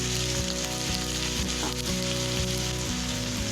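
Diced brinjal and 2-inch drumstick pieces fry in hot vegetable oil for a Tamil Nadu and Kerala style sambar, giving a steady, close sizzle with a tonal backing sound running underneath.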